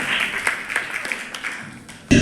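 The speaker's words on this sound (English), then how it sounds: "Please give him a big round of applause." An audience at an annual school function applauds: a steady, moderately distant patter of clapping holds for about two seconds, then a sudden loud burst of handling noise cuts in at the end.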